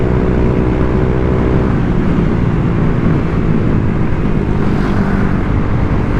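A Honda Vario 125 scooter with an aftermarket racing exhaust and lowered rollers idles and revs loudly up close, a continuous deep, bassy engine drone that holds steady throughout.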